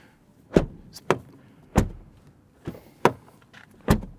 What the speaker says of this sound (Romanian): Se aude plin când închizi ușa.